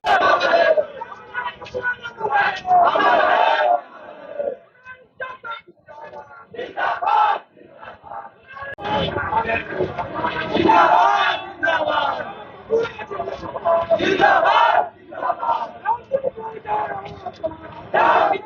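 Large crowd of LJP party workers at the party's foundation day shouting slogans, loud surging bursts of many voices with short pauses between chants.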